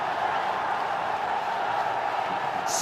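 A cricket crowd at a T20 international between England and Bangladesh cheers a boundary, a steady roaring wash of voices and clapping filling the stadium without pause.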